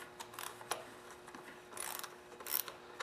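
Quarter-inch socket ratchet backing out a bolt from the plastic cowling over the starter gear on a lawn tractor OHV engine; faint, scattered clicking bursts come and go over about three seconds with no talking.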